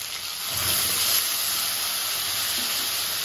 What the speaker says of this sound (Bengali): এবার আমি ওই তেলেই ফোড়ন দিয়ে দেবো গোটা গরম মশলা